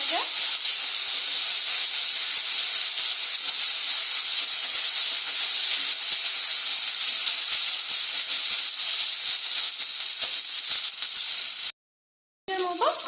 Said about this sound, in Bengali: আদা রসুনটাকে কিন্তু একটু ভেজে নিয়েছিলাম যাতে আদা রসুনের কাঁচা গন্ধটা না থাকে